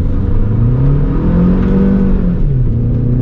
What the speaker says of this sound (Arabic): نقف بقى تاني ونجرب نعمل تجربة تسارع تانية